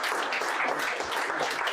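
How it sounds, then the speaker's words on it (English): Dense, steady applause from a tech-talk audience fills the short stretch, a broad wash of many hands clapping at once with no voices over it. "Round of applause"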